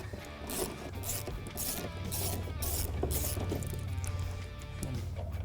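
Ratchet turning a 10mm socket to back out a screw on a Ford Bronco tail light, a quiet close rhythmic clicking with light rubbing scrapes, repeated in short bursts without talk.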